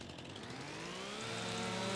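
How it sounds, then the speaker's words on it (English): Chainsaw in Farming Simulator 25, its engine tone rising steadily as it revs up to cut trees, a continuous harmonic whine heard alone and fairly loud throughout. "That's why I get out with a chainsaw."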